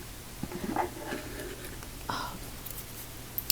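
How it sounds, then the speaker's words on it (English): Storyforge writing cards tapped by fingertips in a quiet ASMR setting: a few soft, scattered taps and light clicks, close and faint, with no talking. "It's card tapping."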